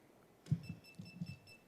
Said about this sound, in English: test your buzzer